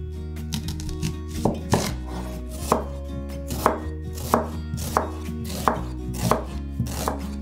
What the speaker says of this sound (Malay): Bawang Holland untuk tumisan, iris nipis.